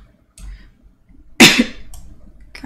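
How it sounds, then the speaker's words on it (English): One person coughs nearby: a loud, sharp cough burst follows a couple of fainter throat sounds, with some quiet breathy noise afterward. "I'm gonna be coughing all stream."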